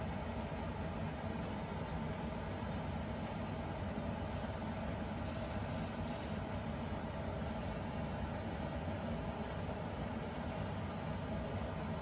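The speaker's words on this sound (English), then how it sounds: "I'll just run that through the airbrush over and over and over again until it starts to spray clear." An airbrush sprays warm tap water while it is flushed clean, giving a soft, steady hiss that runs unbroken with small flickers in its airy top end.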